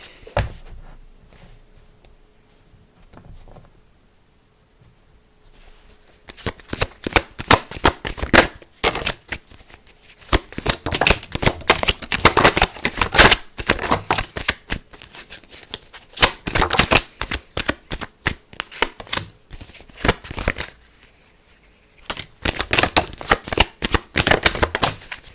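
A tarot card deck being shuffled: after a few quiet seconds, rapid riffling card flutters come close and fairly loud, running in repeated bursts with brief gaps and no voices.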